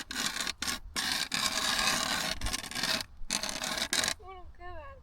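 Hand-cranked ice auger boring through lake ice for winter fishing, giving a loud continuous rasping, scraping grind broken by short pauses, with a few bright whistly squeaks near the end.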